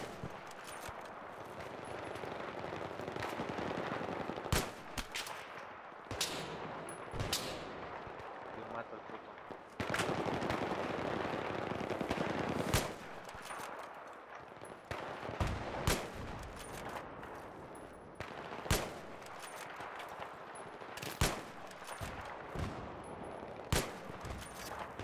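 Battlefield 3 gunfire rattles in dense, loud bursts of automatic fire with sharp single shots and explosions throughout, with continuous battle noise underneath.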